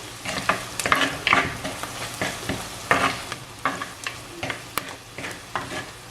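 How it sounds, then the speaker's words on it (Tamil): Chilli powder being stirred and fried in a pan of Sinhala-style curry, with steady rhythmic scraping strokes over a continuous sizzle, close and fairly loud, with no voices. "போட்டு மிக்ஸ் பண்ணி போட்டு ஒரு 1 நிமிஷம் இதில் வதங்க விடுவோம்"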